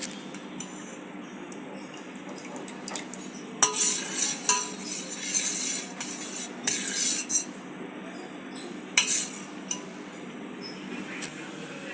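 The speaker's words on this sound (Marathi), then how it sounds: "आता हलवूया आणि चांगलं मिक्स करूया आता बासुंदीला." A spoon stirs thick, reduced basundi in a pot, giving soft scraping and clinking strokes in bursts, close and moderately loud against a steady kitchen background.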